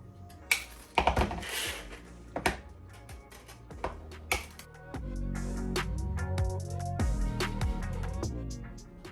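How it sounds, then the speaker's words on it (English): Wire cutters snip through craft wire for a cake topper in a series of sharp, separate clicks, followed by a steadier tonal stretch underneath. "So I'm gonna cut 15 pieces of wire."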